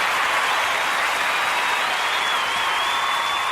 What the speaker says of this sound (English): Yeah, let's applaud myself.